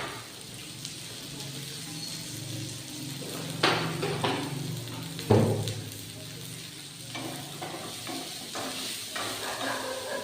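Okra and onions sauté in a pan with a steady close sizzle, broken by a few sharp spoon-and-pan clanks and scrapes while stirring.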